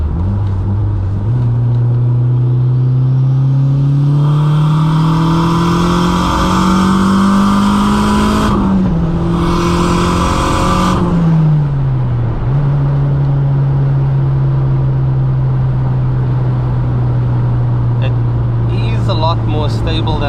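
A VW Golf Mk2 GTS 16v turbo engine drones loudly from inside the car on the move, revs climbing steadily, briefly easing and dipping, then settling into a steady cruising hum.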